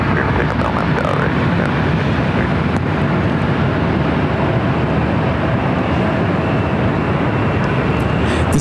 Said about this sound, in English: This takeoff is United Express 5363, taking off to Boise, Idaho on the E175.